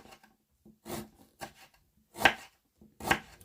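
A knife slices a root thinly on a cutting board, giving four or five separate soft chopping strokes at an uneven pace, close and fairly quiet.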